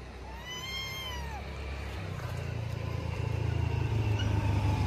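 A two-month-old white and grey male Persian kitten mews in a few rising, drawn-out cries near the start, then falls quiet under a steady low rumble of road traffic or engine noise that grows louder toward the end.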